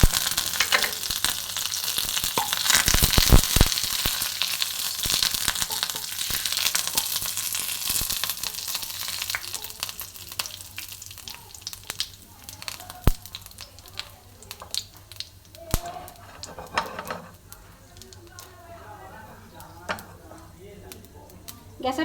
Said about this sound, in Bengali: কারি পাতা, শুকনো লঙ্কা দিয়ে দেবো।